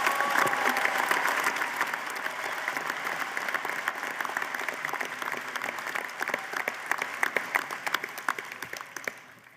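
Steady applause fills a university commencement ceremony for the Davenport class of 2025, a large crowd clapping continuously and fairly evenly, slowly thinning toward the end.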